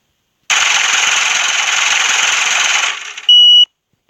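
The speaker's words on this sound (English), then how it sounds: "The drop that I did with the money counter." Rapid mechanical money counter riffling through bills, used as the drop in a trap beat, runs as a loud dense whir for a couple of seconds, then winds down and ends with a short bright tone, with no talk.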